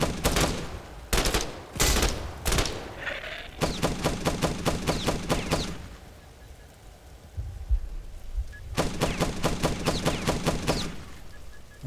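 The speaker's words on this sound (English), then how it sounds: "the turrets shoot at the skeletons" Automated turrets fire at skeletons in the video game The Last Stand: Aftermath, loud rapid bursts of gunfire coming in several long volleys with a brief quieter gap between them.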